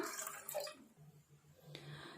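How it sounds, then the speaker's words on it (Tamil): About 400 ml of water is poured into a cooking pot at close range, making a short, faint splashing gush that fades after under a second and leaves a soft trickle and a small clink. "ஒரு பாத்திரத்தில் நானூறு எம்எல் நம்ம தண்ணீர் ஊற்றிக்கலாம்"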